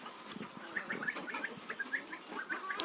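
Geese, including a protective gander, honk and cluck in short bursts at a moderate distance on a farmstead, with other farmyard bird chatter mixed in.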